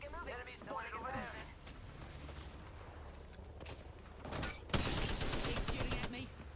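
Gunfire in the battle royale video game Apex Legends, rapid bursts of shots building to a louder dense fusillade near the end, heard under and after a player's voice.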